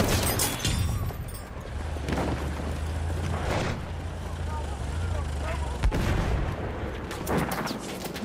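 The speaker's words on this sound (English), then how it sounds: "Machine gun!" Battlefield 1 video game combat with heavy booming gunfire and machine gun bursts, loud and continuous, while players talk over the battle.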